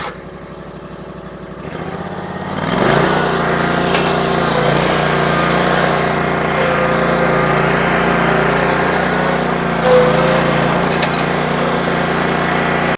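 A ride-on mower used for mowing parish council grounds starts up after a brief cranking sound, then its engine runs steadily and loudly at close range, with a slight surge near the end.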